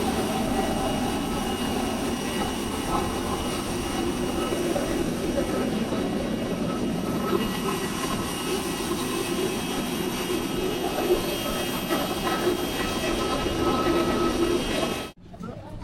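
Steady roar of an AirAsia airliner's jet engines heard from inside the cabin, a loud, continuous drone holding for about fifteen seconds before cutting off abruptly at the end.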